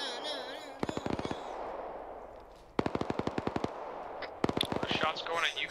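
Automatic gunfire in the Arma military game rattles out in several close, rapid bursts separated by pauses, with some scattered single shots and background battle noise between them.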